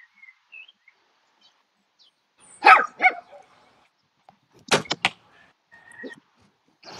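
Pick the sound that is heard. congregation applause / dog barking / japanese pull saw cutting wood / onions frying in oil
dog barking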